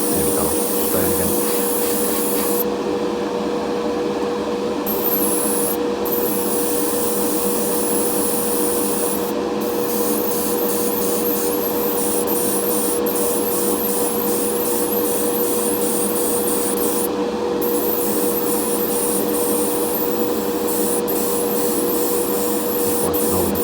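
Paint spraying over the tyres of a custom Corgi Mini model car: a steady airbrush-like hiss and airflow with a constant tonal hum, broken by several short gaps where the spray stops, and no voices.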